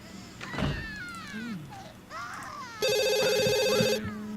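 A telephone rings in The Sims 2 video game, a loud synthetic electronic trill near the end following softer game sounds and chirpy tones.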